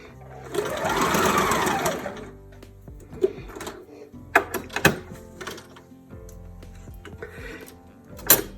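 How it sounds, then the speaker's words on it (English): A domestic sewing machine stitches around a seam while upcycling a garment, with a sustained close whirring run, then short stop-start bursts and clicks as it jumps the seam allowance. "now I'm going to sew around here, get to here, and then I'm going to jump this seam allowance and finish it"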